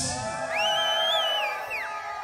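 A group of men lets out one sustained, loud shouted cheer at a fiesta, their voices swooping up and then falling away over about two seconds.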